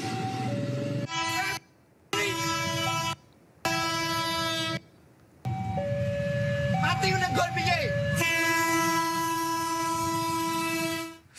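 KRL commuter train passing the Pasar Nongko level crossing in Solo, Central Java: loud, close rumble of rail cars with a sustained horn blast and a crossing warning signal, broken by brief gaps.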